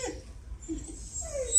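A German Shepherd whimpers softly in short, thin whines at close range, with a brief higher-pitched whine near the end and low background rumble.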